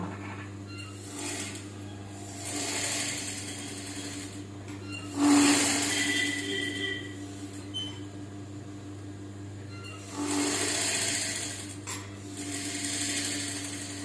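A tailoring sewing machine stitches a sleeve in several short bursts of rapid mechanical whirring, separated by quieter gaps where the fabric is repositioned.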